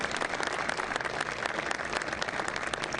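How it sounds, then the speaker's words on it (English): An audience applauds steadily at a presidential speech on infrastructure at a port, honoring the United States Marine Corps on its 247th birthday; dense, even clapping fills the whole stretch at moderate volume with no voice over it. "They deserve some applause"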